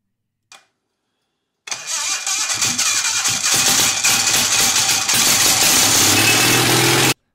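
After a brief click and a pause, a garden tractor's small engine, fitted with a rebuilt stator, cranks, catches and settles into a loud, steady running drone before cutting off abruptly.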